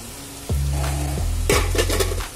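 Pre-fried potatoes dropped into a pan of simmering marinated chicken, a sharp clatter and scrape of utensils over a steady bubbling sizzle, close and loud.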